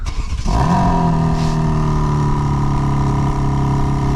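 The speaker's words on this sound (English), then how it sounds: "quad tip dual exhaust, which we can remote start. So let's take a listen." A 2025 BMW M3 Competition engine, remote started, cranks, roars to life with a quick rev through its quad-tip dual exhaust, then settles into a deep, steady, rumbling idle, loud and close.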